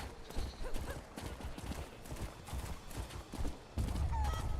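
A horse gallops at a steady pace in a video game, with a rhythmic stream of hoofbeats under a background of game ambience and a faint voice.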